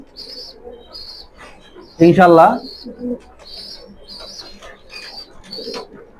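Pigeons, including squabs, coo softly in repeated low throaty calls with high chirps scattered throughout, and someone speaks briefly over them at close range.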